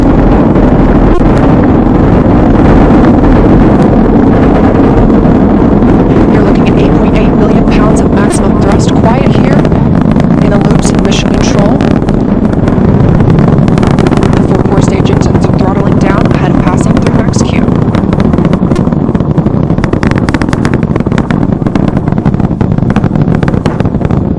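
The Artemis SLS rocket roars during ascent through maximum atmospheric force. A loud, continuous broadband rumble with crackling texture persists for the whole stretch, while a voice speaks over it.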